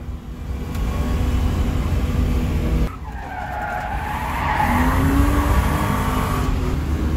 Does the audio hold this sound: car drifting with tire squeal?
yes